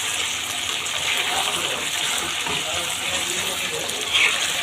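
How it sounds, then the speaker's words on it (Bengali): Broth poured into a pot of spicy chicken curry with browned meat, a continuous watery rush and bubbling hiss held steady throughout, close and fairly loud. "এবার আমি এর মধ্যে পরিমাণ মতো ঝোল দিয়ে দেব।"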